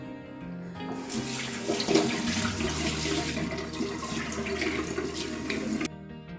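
Tap water runs steadily into a sink while a face is washed, a close, continuous splashing flow that starts abruptly and stops sharply near the end, with no talk.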